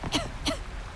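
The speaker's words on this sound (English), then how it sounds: "Oh, she coughed." A female video game character gives two short, close coughs a fraction of a second apart, with no other talk.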